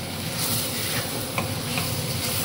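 Mutton curry sizzles in a pan, a dense continuous crackle and hiss at close range with no talking.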